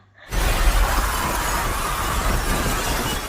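A glass door shattering in the zombie film Train to Busan: a sudden loud crash of breaking glass followed by a dense, sustained spray of falling shards lasting about three seconds.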